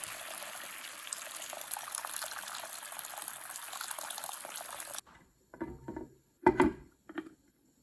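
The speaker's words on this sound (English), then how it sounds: "When the tomatoes become soft and mushy, add water." Water pours steadily into a pan of soft, mushy cooking tomatoes for tomato tofu soup, a close, continuous splashing gush for several seconds that stops abruptly, leaving a few quieter clinks and stirring sounds.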